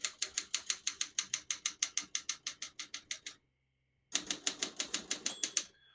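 A 1975 Olympia SM9 portable typewriter clacks out a quick, regular string of crisp keystrikes at close range, stops briefly, then picks up again for another burst.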